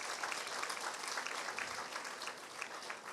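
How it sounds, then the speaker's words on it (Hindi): Audience members at an evening session on holistic antenatal care give themselves a round of applause, a continuous wash of many hands clapping, even and moderately distant, with no talking over it. "जोरदार तालियां एक बार अपने लिए बजाइए।"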